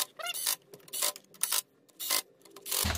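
An impact wrench on its lowest setting fires off several short, rapid ratcheting bursts while bottoming out intake manifold bolts on a Subaru 2.5L engine. The bursts are separated by quiet gaps.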